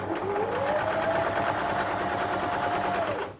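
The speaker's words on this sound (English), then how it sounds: "stitch 1/4 inch either side of that line you've drawn" A sewing machine stitches a quarter-inch seam on an Ohio Star quilt block, a close steady whirring run with rapid even needle pulses that speeds up slightly and then stops.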